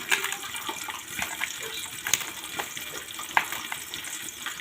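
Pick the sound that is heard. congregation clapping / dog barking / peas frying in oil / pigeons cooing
peas frying in oil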